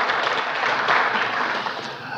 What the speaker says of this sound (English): why don't you give yourselves a round of applause and thank yourselves